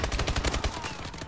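Rapid automatic gunfire from a video game gun, a fast close burst of shots that tapers off, no speech.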